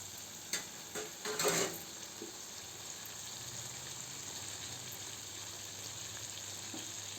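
A ladle stirs drumstick and egg masala gravy in a pan, giving a few short scraping, bubbling bursts early on before settling into a steady low simmer hiss.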